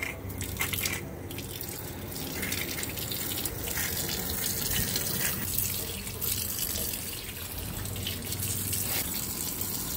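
Water gushing fast from a newly opened sink tap after a clogged, rust-filled filter is cleared, a loud continuous rushing splash close by throughout, with no talk.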